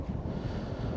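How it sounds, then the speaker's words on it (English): Steady low wind rumble buffeting an outdoor microphone, gusting slightly throughout with no voices. "it's a little windy out here"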